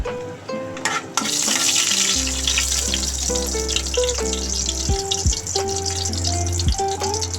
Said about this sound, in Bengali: দেখো একটু চড়বড় করে আসতে আমি পেঁয়াজটা দিই